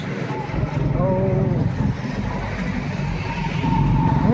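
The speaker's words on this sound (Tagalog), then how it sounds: "medyo maingay kasi ano nasa gilid tayo ng highway" Steady roar of traffic passing beside a highway, a continuous broadband rush of tires and engines with a few faint tonal whines, loud and unbroken, with speech faintly mixed in.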